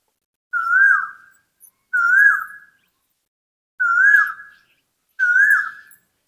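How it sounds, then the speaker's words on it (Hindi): An Asian koel calls during a mango-season morning, four clear, loud, rising whistled notes spaced about a second and a half apart, each standing alone against near silence. "ये जब आम आता है तभी कोयल ज्यादा बोलती है"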